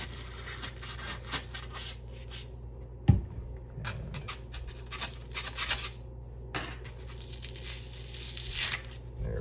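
A steak knife saws and tears through archery target foam in scratchy, crunching strokes, close and fairly quiet, with brief pauses between cuts.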